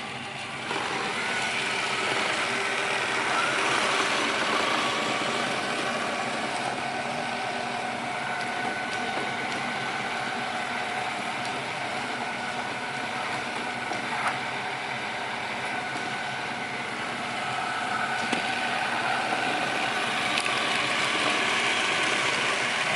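A Miele RX1 robot vacuum with a repaired brush motor runs continuously at a steady level, giving a constant mechanical whir and rattle at moderate loudness with no talking.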